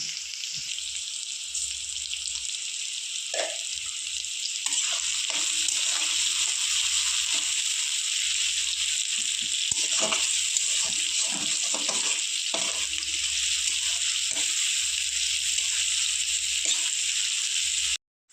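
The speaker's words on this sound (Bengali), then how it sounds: "পেঁয়াজটা লাল করে ভেজে নেব। আর পেঁয়াজের মধ্যে দিয়ে দেবো সামান্য পরিমাণ একটু চিনি" Onions fry with a little sugar in a pan, giving a steady, loud, close hiss of sizzling oil with occasional soft stirring scrapes and no voices, ending abruptly.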